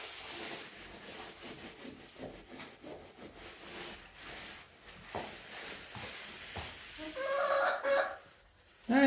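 Chickens in a coop softly cluck and shuffle in the background while someone scrapes and cleans a ledge nearby, with rubbing and scraping sounds over the quiet birds.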